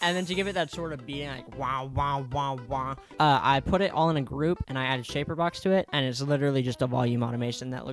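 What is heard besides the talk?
No everyday noises stand out.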